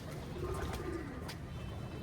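A crossbreed pigeon coos softly over a steady background hum, its low call faint and continuous for the brief stretch without any voices.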